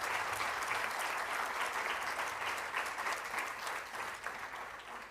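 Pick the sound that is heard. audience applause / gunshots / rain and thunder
audience applause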